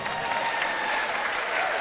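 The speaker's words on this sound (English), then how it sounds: "I think we have to give Nish a round of applause now" Steady applause from a comedy audience at an Edinburgh Fringe comedy show, continuous dense clapping filling the whole moment without pause or voices on top.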